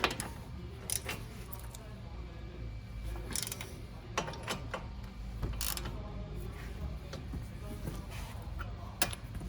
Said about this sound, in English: Back to the 17mm socket and ratchet.